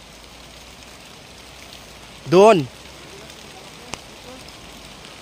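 Heavy rain pours steadily near a waterfall in Kapatagan, Davao del Sur, a dense, even hiss that runs the whole way through. Halfway in, a single short voice cuts across it, and a sharp tick follows.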